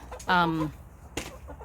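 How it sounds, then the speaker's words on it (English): Chicken on a small egg farm gives a single loud cluck-like call up close, followed by a brief sharp click and quiet background. "chicken"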